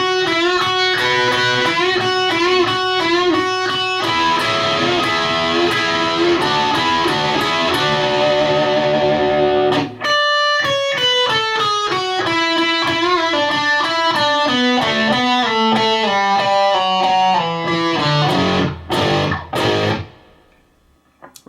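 Distorted electric guitar plays a lick slowly and smoothly, a steady run of sustained notes followed by a descending stepwise line, loud and close, fading out at the end with no talking.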